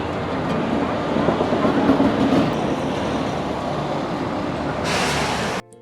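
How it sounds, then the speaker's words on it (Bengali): The Howrah–Puri Dhauli Express departs Howrah station, giving a loud, steady rumble of rolling wheels and carriages that holds for several seconds before a brighter hiss swells and then cuts off abruptly. "ঠিক সময় মাফিক ট্রেন ছাড়লো হাওড়া স্টেশন"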